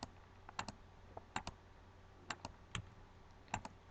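Scattered keystrokes on a computer keyboard during AutoCAD 3D design work, irregular clicks in small bursts, close and fairly quiet against a faint background hum.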